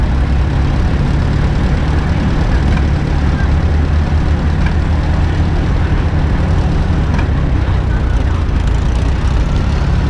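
An early-1950s John Deere tractor rolls past in a fair parade, its engine a steady low rumble that stays constant and fairly loud throughout, with faint crowd noise around it.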